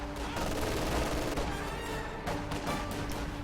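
Tank cannon and anti-tank gun fire in Company of Heroes, a dense, loud barrage of overlapping gunshots and blasts with a World War II battle din continuing throughout.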